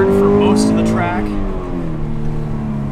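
A 2017 Toyota 86 drives hard around a race track, its engine note climbing and easing through the gears, loud and close from inside the car, with a voice talking over it.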